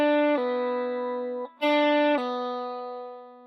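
Two guitar notes, each plucked and then pulled off to a lower note, ringing cleanly with long sustain and fading out at the end.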